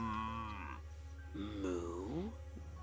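A cow in the Destroy All Humans! video game gives a drawn-out, wavering moo in two long calls, close and clear over a steady low hum.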